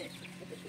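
A rooster in a breeder cage gives low clucking sounds, close and moderately faint, in a short burst with no talking.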